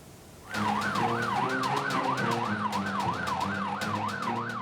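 An ambulance siren in Bogor, West Java, wails in a fast, continuous up-and-down warble, loud and close, holding steady over faint road noise.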